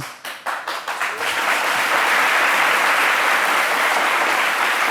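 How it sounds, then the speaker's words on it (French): A crowd breaks into applause, starting with a few scattered claps that quickly swell into loud, steady, continuous clapping. "merci pour les applaudissements"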